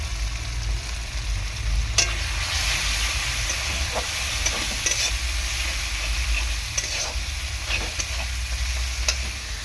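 Turmeric, chili and cumin powders fry in a wok with a splash of water, giving a steady hiss and sizzle over a low hum, punctuated by sharp clinks and scrapes of a spatula stirring.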